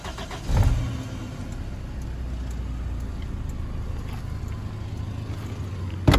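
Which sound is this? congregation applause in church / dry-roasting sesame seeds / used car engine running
used car engine running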